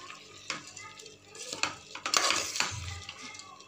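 Soaked rice is stirred into vegetable pulao in a cooking pot, with soft scraping and clinking of the spoon against the metal, a gentle sizzle underneath. It is fairly quiet and close, with no talking.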